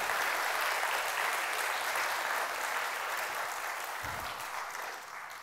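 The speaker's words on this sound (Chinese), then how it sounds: "给他们一个热烈的掌声" An audience applauds at a welcome address, dense steady clapping filling the space throughout, close and loud, tapering slightly toward the end with no voices over it.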